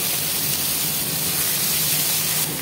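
Onions with ginger-garlic paste sizzling in hot oil for a fish curry, a steady loud hiss and spatter that holds evenly from start to finish with no talking.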